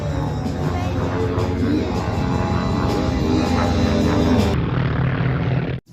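A vintage WWII propeller fighter with a Pacific combat record flies in low from the right. Its loud, steady engine drone holds throughout and cuts off abruptly at the end.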